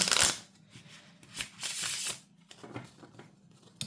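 Tarot cards being shuffled in several quick riffling bursts, close and crisp, with short pauses between them.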